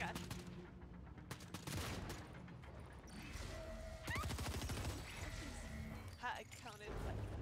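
Rapid bursts of gunfire ring out in a chaotic Fortnite match, crackling shots and impacts overlapping with excited talk from a player.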